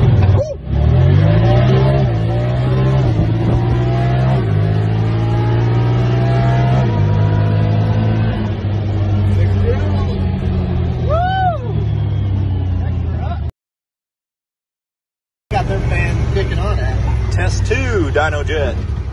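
A Pioneer 1000 side-by-side engine revs hard during Dynojet dyno tuning, a loud sustained roar stepping up through gear-like pitch climbs, with people talking over it and a brief cut-out before it resumes.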